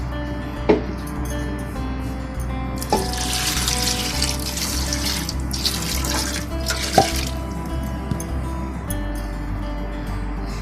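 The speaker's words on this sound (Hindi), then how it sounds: "ये दाल और इसके साथ पानी इतना डालूंगी कि बस इसमें ये गल जाए दाल" Water running into a pot of mash dal set on the stove to cook: a steady, close splashing stream with a few sharp clinks of metal, no talking.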